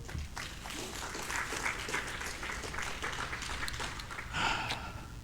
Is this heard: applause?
yes